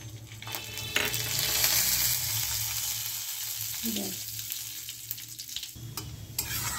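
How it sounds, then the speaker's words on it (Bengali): Whole cumin seeds and green cardamom pods hit hot oil and sizzle steadily up close, a continuous frying hiss with occasional stirring clinks and no talking. "এবার গোটা জিরে আর ছোট এলাচ গরম তেলে দিয়ে দিলাম।"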